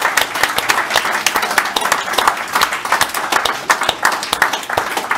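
Audience applause for the staff at the IEA after an indoor talk, a dense crowd of clapping hands sustained steadily and fairly loud throughout.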